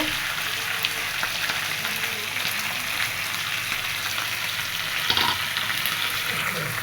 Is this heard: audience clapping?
no